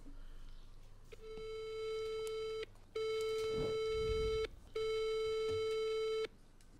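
Telephone calling tone on a line to a real estate agent, three long steady electronic tones separated by short gaps, with faint background noise and no speech.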